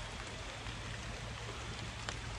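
Steady outdoor rain falls as a soft, even hiss with no pauses, low and fairly distant, with no voices over it.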